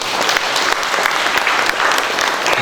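Audience applause at an IPSI Tegal city board inauguration ceremony, a lively, continuous burst of clapping from a crowded room, loud and close throughout.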